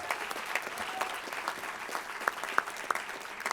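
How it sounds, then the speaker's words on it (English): A dinner audience at a Jewish Caucus advocacy event applauds Richard, heard as fairly faint, distant clapping with a few sharper individual claps standing out near the end. "So let's give him one more round of applause."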